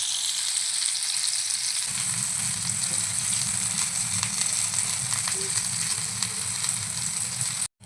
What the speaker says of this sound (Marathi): स्लो गॅसवरती आपल्याला मिरची फ्राय करून घ्यायची आहे